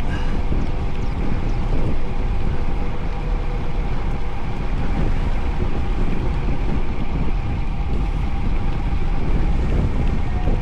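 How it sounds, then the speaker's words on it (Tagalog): Strong wind roars steadily past during an outdoor bike ride, a loud continuous rushing buffet close to the microphone with no talking. "Pero grabe itong hangin."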